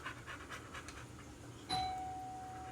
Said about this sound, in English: is what the secondary bell sounds like.